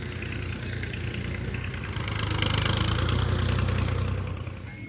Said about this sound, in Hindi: आज जरा ट्रैक्टर चल रहा है